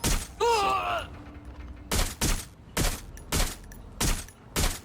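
Gunfire in Watch Dogs Legion on PS4: a short groaning voice, then six loud, sharp shots in an even rhythm at close range.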